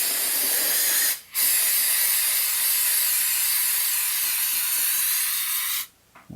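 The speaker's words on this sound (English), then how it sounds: "Let me get a little bit of brake clean and clean some of that up." Brake cleaner sprays in a steady, loud, close hiss onto the carburetor of a Honda EU2000i generator. One short break near the start, then a long continuous blast that cuts off near the end.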